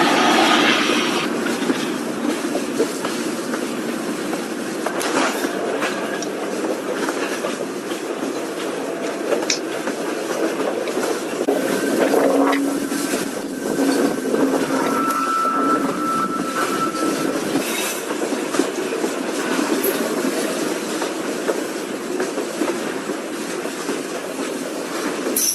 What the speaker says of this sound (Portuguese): é um trem muito grande. Então é uma carga muito grande a ser puxada em costa acima para vencer esse trecho